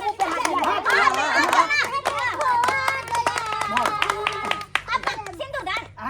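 Hands clap in quick, irregular bursts during a playful mock wedding scene, mixed in with lively children's voices and chatter throughout.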